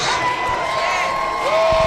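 A crowd at a high school varsity football game cheers for young mini cheer camp cheerleaders, a broad roar with whoops and a sustained shrill tone in the stands, while an announcer's voice carries over it.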